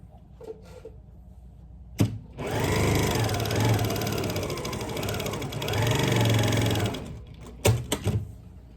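A sewing machine stitching fabric scraps for a quilt square, a steady whirring run of about four and a half seconds with a slight slowdown midway, bracketed by a few sharp clicks and handling knocks, close and loud.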